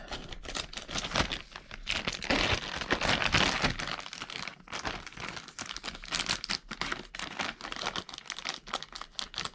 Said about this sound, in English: these are different scissors from what I used last time, and they're not cutting as well